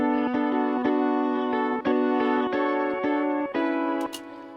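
Guitar run through a delay effect within a beat, a dense repeating pattern of plucked chords with echoing repeats over a steady rhythmic pulse, fairly loud and with no voices.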